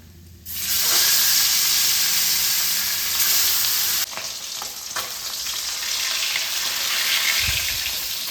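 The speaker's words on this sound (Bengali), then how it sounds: "এই তেলে বাকি মাছগুলো ভেজে নেব।" Bata fish hits hot mustard oil and bursts into a loud, sustained sizzle that crackles steadily, with a brief stir partway through.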